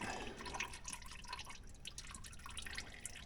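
Hot liquid drips steadily as it drains, a quick, close run of small wet patters with no one speaking.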